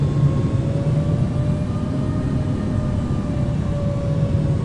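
Steady, loud broadband roar inside an Air France heavy airliner cabin on final approach into Miami, runway 27, with a constant engine drone and faint whining tones, continuous throughout with no talk.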